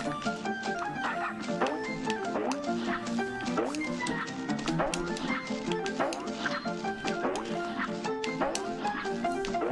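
A dog yipping and whimpering close to a gaming microphone, repeated short bursts spread through dense, busy game music that runs throughout.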